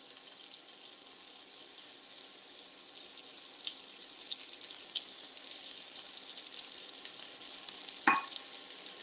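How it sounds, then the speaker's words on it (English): A cut of meat with a fat cap sizzles in a pan without oil, giving a steady, close frying hiss throughout with a brief clink near the end. "Even without the oil, because it's got this little fat cap on it, it will sizzle up"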